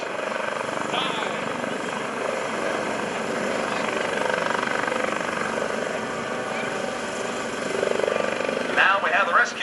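A US Coast Guard search-and-rescue helicopter hovers at an airshow rescue demonstration, its steady rotor and engine drone filling the scene loudly and continuously, with a slight swell near the end.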